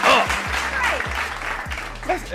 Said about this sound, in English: Come on now, clap it up.